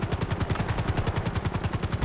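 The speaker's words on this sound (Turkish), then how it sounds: "oğlum çok ağır oldu helikopter kalkmıyor lan" Helicopter in GTA 5 straining to lift off while overloaded, its rotor giving a steady rapid chopping pulse throughout, loud and close with no talking.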